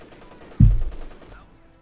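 A single loud, close gunfire burst from a German machine gun in Company of Heroes 2, a short thump that rings out and fades under faint background battle noise.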